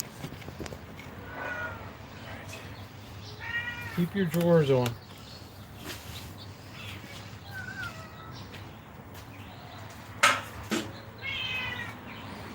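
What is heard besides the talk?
cats meowing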